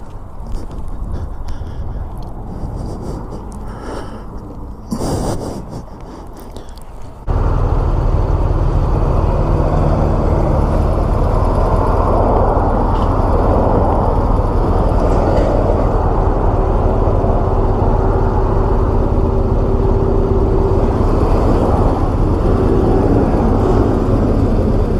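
Honda NC 750 X DCT motorcycle being ridden, a steady loud broadband engine and wind roar that kicks in sharply after a quieter rumbling stretch and holds constant, close to the rider with no talk.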